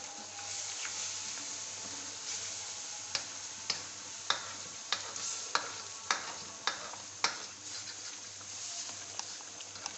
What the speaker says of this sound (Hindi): आधा कप ऑयल डालेंगे और इसको हमने भूनना शुरू कर देंगे।